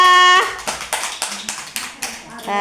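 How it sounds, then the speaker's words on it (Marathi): Children at an anganwadi preschool clap their hands in a steady series of sharp, close claps, framed by a woman's sung or spoken voice at the start and end. "टाळ्या वाजवा"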